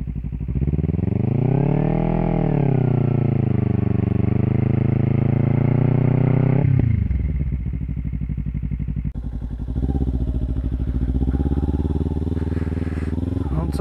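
A Kawasaki Ninja 300 does off-road burnouts. Its engine screams loud and close, revs held high and swelling, then drops away into rougher, choppier lower revving with clattering bursts.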